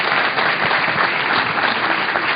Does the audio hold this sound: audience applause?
yes